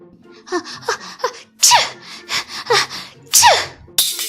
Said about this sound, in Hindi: ज्यादा भीग जाने की वजह से वो छींकने लगी।